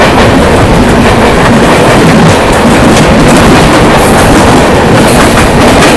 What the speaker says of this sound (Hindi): नई दिल्ली राजधानी 20-503 भाई अब जाकर क्रॉस हो रही है।